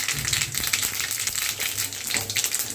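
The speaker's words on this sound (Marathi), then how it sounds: "त्यानंतर आपल्याला यामध्ये घालायचे आहे मोहरी आणि थोडंसं जिरे." Mustard seeds and cumin sizzle in hot oil with a pinch of asafoetida, a steady close crackling hiss with small pops, heard alone.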